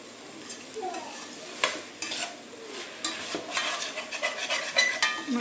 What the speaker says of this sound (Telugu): ఈ టైంలోనే మనం గ్రీన్ బఠానీ ఏమైతే తీసుకున్నామో ఏదైతే తీసుకున్నామో దాన్ని కూడా వేసుకొని ఫ్రై చేస్తాం.